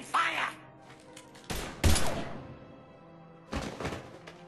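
Gunfire in the Mass Effect 3 video game, a few loud punchy thudding shots in separate bursts with brief pauses between them, close and sharp.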